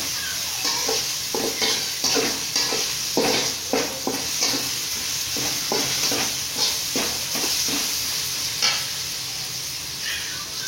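Ginger and garlic sauté in a pan for cauliflower chilli rice, a steady sizzle broken by frequent scraping stirs, close and continuous with no voices.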